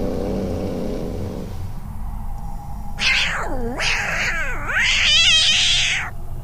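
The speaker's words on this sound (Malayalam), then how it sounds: "കുറച്ചു നേരത്തേക്ക് ആ പൂച്ചയുടെ ചീറ്റലും മുരളലും" A cat yowls and growls in drawn-out wavering cries, several rising and falling calls close and loud over a low steady background rumble.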